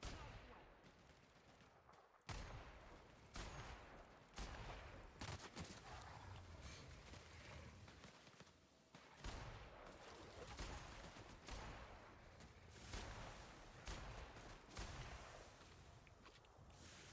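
Gunfire in the video game The Outer Worlds, repeated loud shots and bursts cracking in clusters over about seventeen seconds, with short quiet gaps between volleys.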